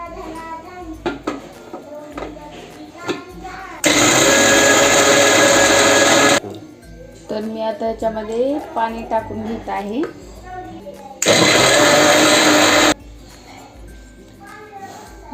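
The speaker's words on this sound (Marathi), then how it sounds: "तर याला आता आपल्याला परत मिक्सरद्वारे काढून घ्यायचं आहे आणि नंतर पाणी टाकून काढून घ्यायचं" A mixer grinder blends mango pulp with sugar for aamras in a home kitchen, in two loud, steady whirring bursts of a few seconds each, with someone talking between them.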